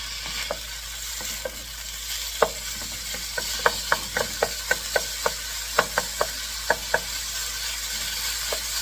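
Chicken sizzles and crackles in a hot pan, with a steady frying hiss broken by sharp pops and spatters at irregular intervals.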